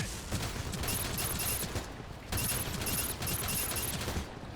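Rapid gunfire from a weapon in the video game Gundam Evolution rattles out in dense, loud bursts, with a short pause between the two main volleys.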